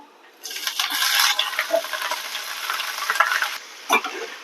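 Cumin seeds and rice frying in ghee for jeera rice, a busy, close crackling sizzle with stirring scrapes throughout, ending with a brief clink.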